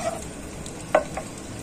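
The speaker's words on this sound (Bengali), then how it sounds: "মশলা এই ফোড়নটা একটু ভাজা ভাজা হয়ে গেলে আমি কিন্তু আর তেল দেব না" Whole spices for a phoron temper fry in a little oil with a pinch of salt for a potol curry, giving a soft, steady sizzle close by with a brief sharp crackle or stir in the middle.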